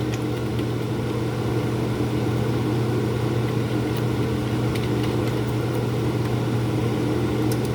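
Loud kitchen vent fan running in a home kitchen, a steady dense whir with a low hum, constant and close throughout with no pauses or talk.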